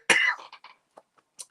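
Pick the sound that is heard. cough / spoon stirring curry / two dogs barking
cough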